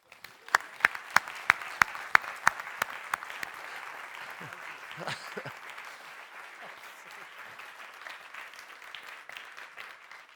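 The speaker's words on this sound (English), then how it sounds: "Applause, please, for half soap, half soup, Dallas Campbell." Audience applause at a science communication competition final, opening with a few sharp, evenly spaced claps before settling into steady, moderate clapping from a crowd, with a voice briefly rising partway through.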